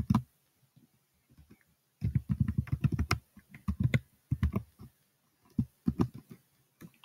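A password is typed on a computer keyboard, with close, distinct keystrokes coming in uneven bursts and short pauses between them, and no talk.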